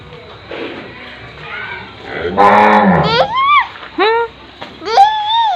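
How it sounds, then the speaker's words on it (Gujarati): A desi cow lows loudly at close range, giving several drawn-out moos, with people talking nearby on a cattle farm. "આ ગાય દેશી કહેવાય"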